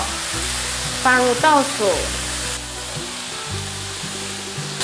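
Carrots, jicama and other vegetables stir-fried in a pan, a steady sizzle with scraping and tossing, while a voice speaks briefly over the cooking.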